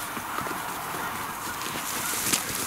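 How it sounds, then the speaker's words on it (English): Geese honk faintly through a hiss of wind or water noise during a morning waterfowl hunt, the calls soft and distant without any talk. "Look how dark that goose is."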